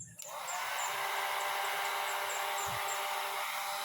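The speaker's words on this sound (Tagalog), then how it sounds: "So yan, umaandar na yung ating cooling fan." An automatic cooling fan runs inside a hydroponic greenhouse, making a steady, loud airy whoosh that starts abruptly and holds constant, with a few faint high chirps in the background.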